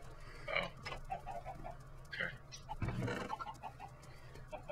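Minecraft chickens clucking in short, scattered bursts at moderate loudness, with a low steady hum running underneath.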